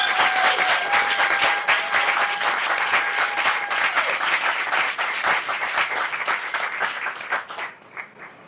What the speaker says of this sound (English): So I ask you to welcome them with a great round of applause